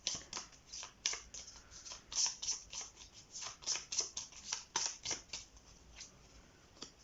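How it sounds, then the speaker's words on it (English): Astrology cards being shuffled and pulled from a deck, a rapid series of close, crisp papery flicks and slides with no talk. "let's pull some astrology cards to get more insights into your reading"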